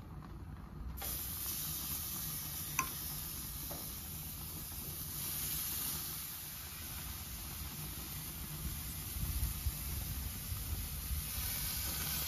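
Teriyaki beef kebabs with onion, squash and zucchini sizzle steadily on a hot grill, a continuous hiss that stays even and close with no talking.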